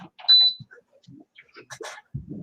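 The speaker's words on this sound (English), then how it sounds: "That sounded like a smoke detector." A single short high-pitched electronic beep from a smoke detector sounds once, clear and fairly near, among scattered quiet movement noises.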